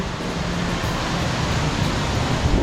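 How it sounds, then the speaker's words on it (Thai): A waterfall roars as a continuous broadband rush of falling water, loud and steady throughout with no voices over it. "ฟังนี่ฟังนี่อู้น้ำตกงามบ่"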